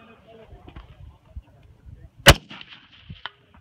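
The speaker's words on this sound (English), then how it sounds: "So shoot the next one and the next one on the left side." A single sharp rifle shot cracks out loud and near at a long-range shooting target, with a fainter report following a second later, while quiet voices murmur around it.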